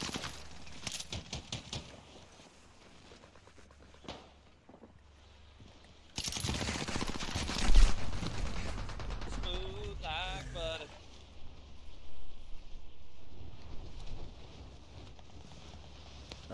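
Bursts of gunfire in Warzone on Rebirth Island, with scattered shots early, then a loud, dense volley in the middle before fading back into quieter game ambience, with someone talking over parts of it.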